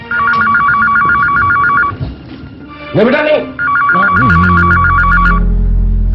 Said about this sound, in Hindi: फोन की बेल बज रही कब से, कोई उठा क्यों नहीं रहा है?